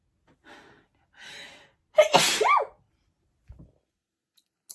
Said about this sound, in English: And I feel a sneeze coming.